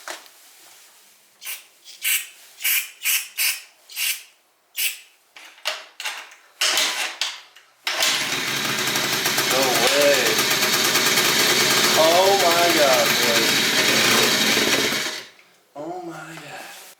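A Honda Cub EZ90 motorcycle engine, unused for 13 years, is kicked over several times before catching and running loudly for about seven seconds, revving with rising and falling pitch, then cutting out before a voice speaks.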